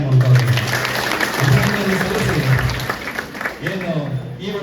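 Loud applause from an audience at a Kanakapura taluk administration celebration for Babu Jagjivan Ram, honouring a teacher, with a voice speaking over the steady clapping throughout.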